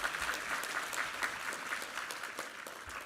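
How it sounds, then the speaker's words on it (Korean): Church congregation applauding together after a sermon reading, a steady wash of many hands clapping at moderate level throughout, with no one speaking. "우리 하나님께 감사와 영광의 박수 올려드리겠습니다."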